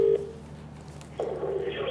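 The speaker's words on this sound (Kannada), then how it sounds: "ರೂಪಿಕಾ ಒಂದು ಫೋನ್ ಮಾಡ್ಬೋಣ." A telephone call is dialled during a TV news segment: a short electronic tone, then faint line hum and soft tones. The sound stays quiet and lasts about two seconds.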